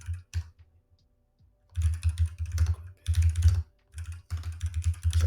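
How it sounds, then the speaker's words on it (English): Someone types on a computer keyboard in short bursts of rapid, close key clicks separated by brief pauses, with no talking. "just typing myself a note"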